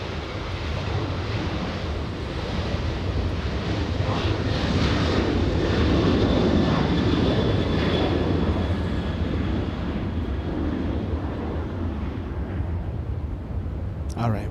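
A Delta Boeing 737-900 jet airliner bound for San Francisco roars steadily at LAX, a broad sustained engine rumble holding loud throughout with a faint whine on top.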